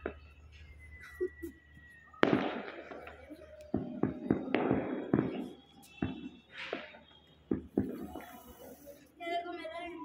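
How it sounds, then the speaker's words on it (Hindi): Firecrackers bursting at a Diwali celebration, a string of sharp, separate bangs and pops at uneven intervals, fairly close, with people talking and shouting between the blasts. "ये रेहान भाई के बम थे।"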